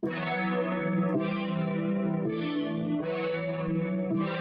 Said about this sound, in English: So I'm gonna go back and add more chorus.